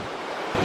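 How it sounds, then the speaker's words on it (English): Wind gusting against a microphone outdoors on a spring day beside a bog, a steady broad rumbling rush that swells louder toward the end. "It's a little bit windy, hopefully you can hear what I'm saying"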